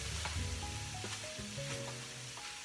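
Cooked mixed vegetables for couscous frying in a pan, with a continuous close sizzle, soft stirring scrapes and a few faint tonal clinks underneath.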